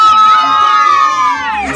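Ululation at a first birthday party, a loud, close, high trilling vocal cry from several voices that wavers and slowly falls in pitch, with crowd noise around it.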